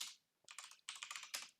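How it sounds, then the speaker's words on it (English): Keys tapped on a computer keyboard, a short quiet run of crisp clicks in a few quick bursts, including an enter-key press, with no voices. "I click enter to enter stuff into the console"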